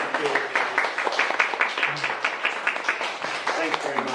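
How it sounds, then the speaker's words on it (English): An audience applauds a guest speaker named John after a talk and Q&A session, giving steady, dense clapping from a room full of people throughout. "let's give John another huge round of applause"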